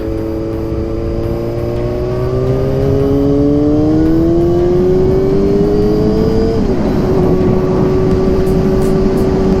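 A 2005 Yamaha R6, 5SL model, with its inline-four engine held at a loud, steady howl close by. The revs climb gradually, then drop slightly and settle into a constant high-pitched drone.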